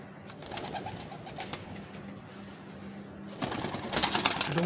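Pigeons coo repeatedly at an outdoor pigeon-flying tournament, soft rolling calls over background rustle, ending in louder bursts of handling or wing noise.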